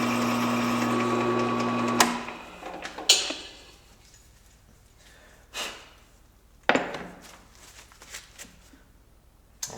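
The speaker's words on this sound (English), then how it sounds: "a little more oil on there and finish drilling that hole, and it should be good." Drill boring a hole in oiled metal for a fret press project, a steady close whirring drone that stops abruptly after two seconds, followed by scattered clunks and handling knocks in a quiet room.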